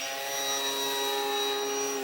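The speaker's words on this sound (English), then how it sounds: "My propeller is a little bit off balance, that's why it's making that noise" A large HobbyKing Arcus F3A radio-controlled plane with a slightly unbalanced propeller flies overhead, giving a steady, continuous motor-and-prop whine with a rough buzzing edge, moderately loud and alone, holding level for the whole stretch.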